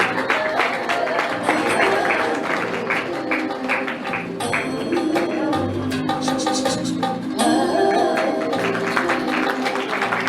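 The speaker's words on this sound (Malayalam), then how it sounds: "മിനിമോൾ കൈയടിക്കാൻ നമുക്ക് പ്രോത്സാഹിപ്പിക്കാം." Applause from an audience at a state karaoke singing competition prize ceremony, a steady wash of clapping that runs throughout with brief dips, fairly loud and close, with some voices mixed in.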